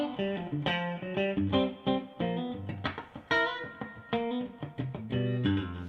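An electric guitar with both front and back pickups in single coil mode plays a lively, strummed and picked passage, with bright chords and quick note runs at a steady moderate level, and no talking.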